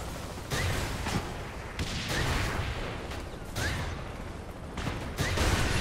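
Repeated blasts of rocket fire and explosions in the action game Saints Row: The Third, coming as a series of heavy booming bursts over several seconds with no talking.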